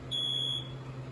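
A First Alert SA68 smoke alarm gives a single short, shrill, high-pitched electronic beep lasting about half a second, close and clear over a low room hum.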